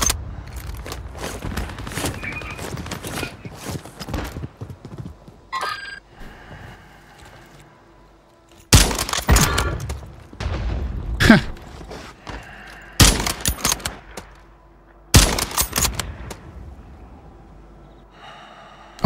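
KAR98 sniper rifle fire in Call of Duty Warzone: several loud, sharp blasts spaced a few seconds apart, among busier bursts of in-game noise and clatter.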